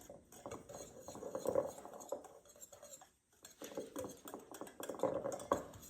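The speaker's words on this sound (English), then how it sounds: "we're going to take our dry ingredients and we're just going to give them a good whisk" Dry ingredients for low-carb pumpkin cream cheese muffins are whisked in a bowl, a quiet rapid ticking and scraping of metal against the bowl in two stretches split by a brief pause.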